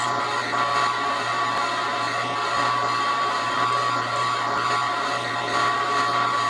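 Harbor Freight milling machine running a fly cutter on the quill's fine feed, a steady loud whirring motor hum with a constant tonal whine and broadband cutting noise throughout, no talk.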